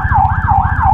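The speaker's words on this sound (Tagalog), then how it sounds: "Wait lang, may ambulansya." A loud ambulance siren wails close by, its pitch sweeping up and down in a steady repeating cycle over a low rumbling engine.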